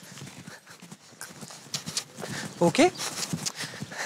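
A horse's hooves clop on the ground during a riding lesson, with an irregular rhythm of fairly close steps while a person talks over them.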